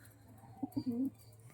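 A white Kalanka pigeon coos on a rooftop on a winter afternoon, giving one short, soft coo of a few low notes, close but faint.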